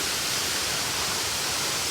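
The Riakiania waterfall pours onto rock as a dense, steady hiss of rushing water, broad and unbroken, with no voices.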